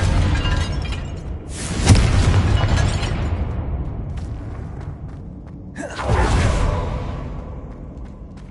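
Confringo spell explosions in a Hogwarts video game: two loud rumbling blasts a few seconds apart, each with a rushing whoosh that fades slowly.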